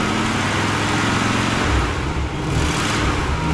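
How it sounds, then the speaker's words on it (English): A 1977 Oldsmobile 98 Regency's engine idles steadily and loudly, a smooth, even rumble with no revving, close by. "the engine runs pretty smooth and good"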